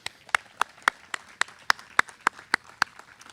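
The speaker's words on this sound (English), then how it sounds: "I'd like you to give another well-deserved applause to Captain Chandler." Sharp, evenly spaced claps, about a dozen in a steady rhythm, ring out sparsely and fairly quietly in honour of Captain Chandler at a bust dedication, with no voices over them.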